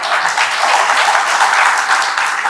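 An audience claps to welcome the chief guest at a meeting hall gathering, a loud, dense and even wash of applause that holds steady without any talk.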